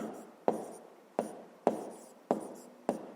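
Pen or chalk writing a maths equation, five short sharp taps or strokes spaced about half a second apart, close and clear in a quiet room with no talk.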